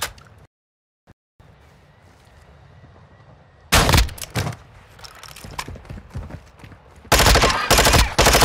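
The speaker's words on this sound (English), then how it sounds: "You are taking effective fire." Bursts of automatic gunfire from the shooter video game Call of Duty DMZ, loud rapid volleys, one after a brief dropout and another near the end, with a quieter stretch of game ambience between them.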